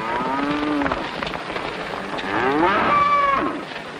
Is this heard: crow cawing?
no